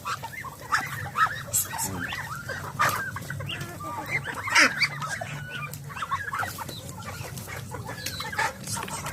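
Domestic turkeys, chickens and ducks at feeding time, with a rooster among the flock: busy overlapping clucks, crows and honks continue throughout at close range, mixed with scattered movement and pecking.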